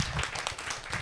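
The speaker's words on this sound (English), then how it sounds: "I think they all deserve a warm round of applause" Warm audience applause for presenters at a university public lecture, a short burst of steady, dense clapping throughout.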